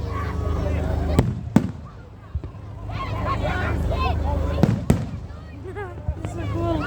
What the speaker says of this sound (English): they're the best fireworks here